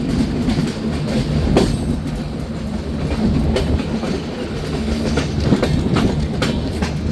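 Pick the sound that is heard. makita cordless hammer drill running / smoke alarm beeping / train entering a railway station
train entering a railway station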